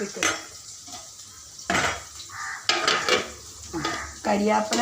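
Sardines fry in a pan of hot oil for a Kerala-style sardine curry, with sizzling broken by stirring and the clatter of a utensil against the pan in several sharp bursts, close and moderately loud.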